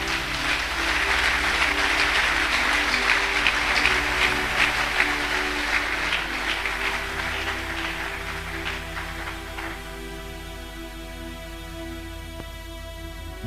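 A church congregation applauds in a large hall, a sustained wash of clapping that slowly fades while steady keyboard chords carry on underneath and take over at the end.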